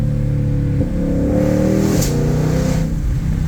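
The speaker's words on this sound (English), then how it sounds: "Did you have back tires busting loose?" Ford GT500 accelerating hard with its rear tires breaking loose, a loud close engine roar whose pitch climbs steadily, with a short dip and a sharp burst near the middle.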